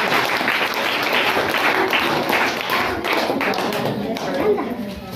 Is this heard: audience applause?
yes